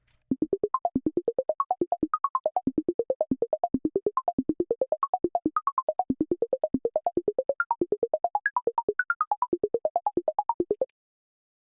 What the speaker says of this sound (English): Then this is just a sine wave.